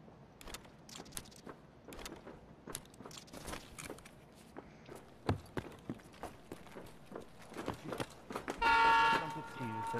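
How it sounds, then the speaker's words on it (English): A train horn in the Escape from Tarkov video game lets out one loud, sustained blast near the end, after scattered footsteps and clicking gear sounds. "Jesus, who is honking that damn horn?"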